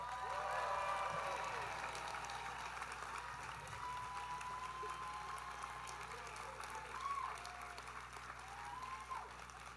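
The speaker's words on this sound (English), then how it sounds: "Please give a round of applause." Audience applause greeting the Poly class of 2028 at an 8th-grade promotion ceremony, a steady wash of clapping that starts strong and holds level for nearly ten seconds, with faint crowd murmur underneath.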